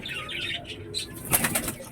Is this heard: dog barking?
no